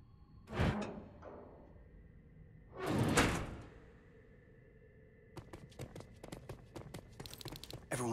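A door in the Terminator Resistance video game: two loud whooshing, grinding surges as it slides open, followed by quieter rhythmic clattering footsteps or mechanical clicks trailing off.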